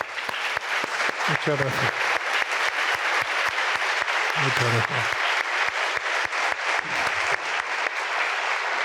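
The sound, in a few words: audience applause after a talk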